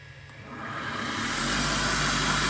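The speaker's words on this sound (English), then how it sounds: "set it to the maximum speed of the motor, 3000 RPM" A Lichuan AC servo motor run up to 3000 RPM as a CNC spindle gives a steady mechanical whir with a sustained tone that grows louder and fuller over the first second or so, then holds near and constant.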